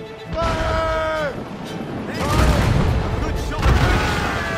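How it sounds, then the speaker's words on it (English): Ship cannons fire during a naval battle in the video game Assassin's Creed Rogue, with heavy booming blasts rolling out over the second half, mixed with shouted voices. "Cannon ready!"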